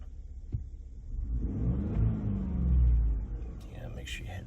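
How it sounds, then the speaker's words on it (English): A 2017 Ford F-150 with a 3.5L EcoBoost engine revs up and falls back during an engine swap, a steady low rumble that swells to a peak and then settles, with no talk over it. "So we'll rev it."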